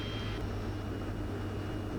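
The single jet engine of a Cirrus Vision Jet roars steadily and loudly at takeoff thrust during a rolling takeoff, with a brief high whine at the start, and no talking.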